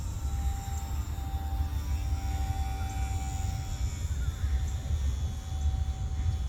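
A Hobby Zone Super Cub RC airplane drones steadily overhead on a breezy day, a thin continuous motor whine over low wind rumble, fairly distant and unbroken.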